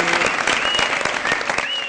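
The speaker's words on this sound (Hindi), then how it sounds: "बहुत सारी तालियां" Studio audience applause on the Pakistani comedy talk show Mazaaq Raat, with a close, lively burst of many hands clapping at steady loudness and bright tones sounding briefly over it.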